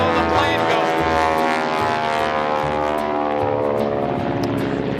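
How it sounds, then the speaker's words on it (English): A propeller airplane passes overhead, a loud, steady broadband drone with a rising and falling harmonic whine that fills the whole stretch, with faint voices under it. "Excuse me while the plane goes."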